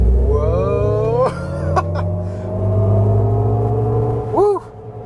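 A 2023 GMC Hummer EV Pickup Edition 1 surges from a standstill to 60 mph at full throttle, a steady electric whine rising in pitch under loud cabin rumble, with brief exclamations and a short chime-like tone near the end.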